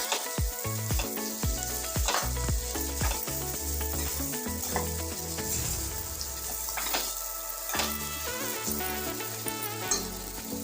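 Amaranth leaves hit hot oil in a pan, giving a loud, dense, crackling sizzle that pops and spits continuously throughout, with no voices.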